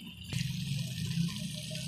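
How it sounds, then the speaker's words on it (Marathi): Water is poured into a pan of cooking masala with oil separating, a steady soft rushing splash that lasts throughout at low volume. "मग याच्यामध्ये आपल्याला पाणी ॲड करायचं आहे."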